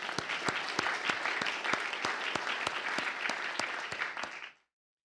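Round of applause in the Alabama House honoring state law enforcement troopers, many hands clapping densely and steadily with a few sharp standout claps, moderately distant, before fading out to silence.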